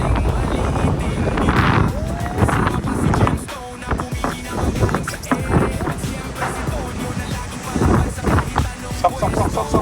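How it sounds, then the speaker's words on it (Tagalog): Strong wind roars and buffets the microphone in loud, continuous gusts, with rumbling low noise throughout. "Medyo malakas yung hangin."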